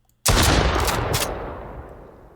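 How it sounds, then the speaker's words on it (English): A video game shotgun fires a single loud, close blast with a sharp attack, followed by a long decaying tail of reverb. "Got the shotgun sound and everything in that."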